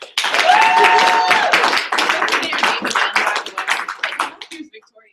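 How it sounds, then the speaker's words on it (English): Audience at an It Works! training event in Boise bursts into loud, steady applause that holds for several seconds, then thins into scattered, tapering claps, with a voice briefly audible over the start. "Oh, hey, clap for her."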